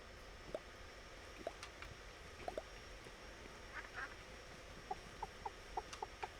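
Farm animals in the video game Staxel, a duck and two chickens, give short scattered clucks and quacks, faint but distinct over a quiet ambient background with no talk.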